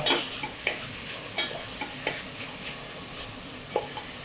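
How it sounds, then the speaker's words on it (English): Onions cooking down in a pan for a creamy coconut peanut curry, with a soft continuous sizzle and a few sharp scrapes of stirring spaced irregularly through the clip, close by and with no talking. "So we're just cooking the onions down now."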